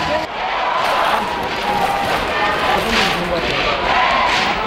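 A crowd of about 6,000 spectators fills a pro basketball arena with a dense, steady roar of many voices and cheering, while a voice speaks over it.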